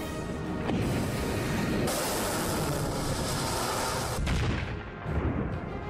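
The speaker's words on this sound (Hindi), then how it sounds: "बैटल शिप से दनादन रॉकेट दागे जा रहे थे" Rockets fired in rapid succession from a battleship, heavy continuous booming and roaring blasts that run loud and dense across the whole stretch, with a sharp new burst partway through.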